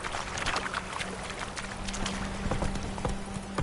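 Roach, Geralt's horse in The Witcher, trots steadily with a continuous run of close hoof clip-clops over a busy outdoor ambience, with no talk.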